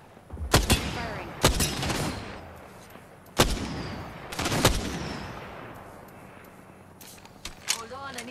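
Apex Legends gunfire cracks out in several sharp, loud shots and short bursts spaced over several seconds, each followed by a decaying echo, with a rapid final flurry near the end.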